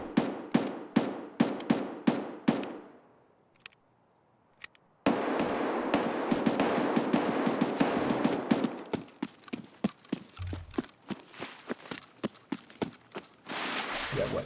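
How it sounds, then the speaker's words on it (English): Gunfire rings out in the shooter game Escape from Tarkov: sharp bursts of rapid shots, a brief quiet, then a dense stretch of firing and scattered single cracks, loud and close. "And those shots, I know they sounded loud nearby up here, but they're likely in 2-story."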